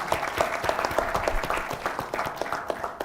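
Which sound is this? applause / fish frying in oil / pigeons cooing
applause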